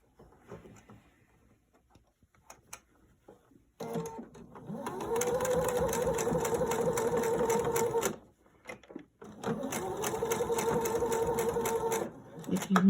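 A sewing machine stitches pleated fabric in two sustained loud runs of steady rapid needle chatter, separated by a pause, with quiet talk in the gaps.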